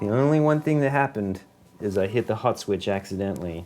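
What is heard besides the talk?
No everyday noise stands out behind the speech.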